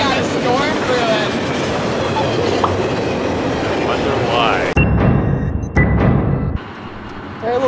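Amtrak train in the Rolling Line video game, a loud rumbling run with rhythmic clickety-clack and some wheel squeal, abruptly shifting near the end, with voices talking over it.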